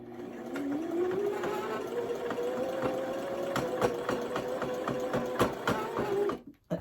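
A domestic sewing machine runs a continuous straight stitch at 3.5 length through a thick baby blanket, its motor humming steadily close by for several seconds before stopping abruptly.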